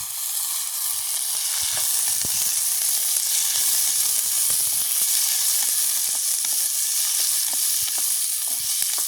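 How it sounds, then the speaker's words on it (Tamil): Onion, green chilli, curry leaves and garlic sauté in a hot pan in a village kitchen, giving a loud, steady sizzle and hiss with a scatter of small crackles and the odd scrape of stirring. "உள்ளி எல்லாத்தையும் செய்து கொள்வோம். எல்லாத்தையும் நல்லா வதக்குவோம்."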